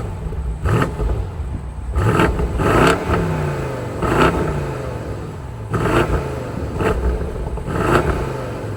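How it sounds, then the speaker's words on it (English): Exhaust of a 2021 BMW M850i Gran Coupe, revved repeatedly in loud throaty bursts with a steady rumbling idle between, close up and with no talking. "Let's go ahead and listen to the exhaust."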